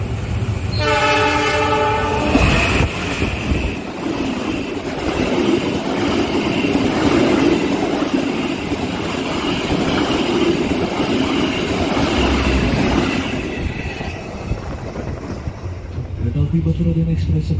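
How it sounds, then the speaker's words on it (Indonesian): A train horn blasts loudly, then the Batu Raden Express passenger train rumbles into Bojong station with steady rail noise and clatter, gradually easing as it slows. "kereta api Batu Raden Express tiba di stasiun Bojong."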